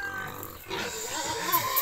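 Hungry pigs grunt and snuffle in a low, irregular chorus, fairly close, with a faint high squeal or two near the end.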